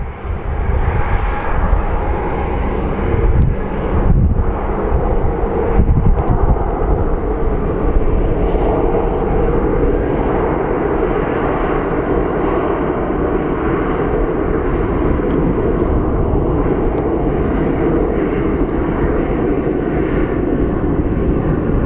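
Southwest Airlines flight 537, an airliner bound for Ontario, California, roars at Phoenix Sky Harbor airport with a loud, sustained, broadband engine rumble that holds steady for over twenty seconds.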